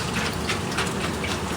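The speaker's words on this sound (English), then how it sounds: "use my gravel cleaner to stir up the bottom, and hoping that the gravel cleaner will suck a bit of the crap out of the gravel" Gravel cleaner siphoning dirty water out of a fish tank in a live seafood system, giving a steady close rushing, gurgling flow with no talk.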